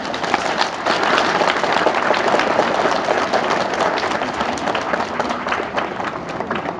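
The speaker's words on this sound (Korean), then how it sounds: "여러분 박수 한번 주세요." Audience applause at a live radio charity donation event, sustained and fairly loud dense clapping from a crowd filling the whole stretch.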